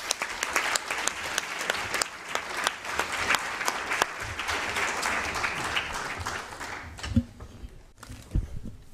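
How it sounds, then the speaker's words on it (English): Conference audience applauding steadily for several seconds, a dense wash of many hands clapping that thins out and stops near the end, leaving a few scattered claps and room noise. "maybe we can give him an applause for doing so."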